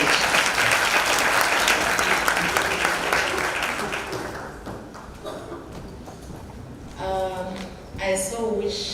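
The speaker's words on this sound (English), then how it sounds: "Kindly give her a round of applause as she comes on stage." Audience applause at a G20 symposium as a speaker comes on stage, a dense burst of clapping that thins out after about four seconds into scattered claps and stage shuffling.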